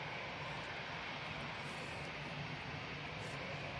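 A Jet2 Airbus A321neo departs Manchester Airport as a steady, distant, low engine roar with broadband rushing and no break, faint and without voices.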